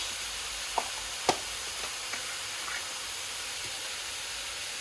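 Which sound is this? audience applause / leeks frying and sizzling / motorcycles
leeks frying and sizzling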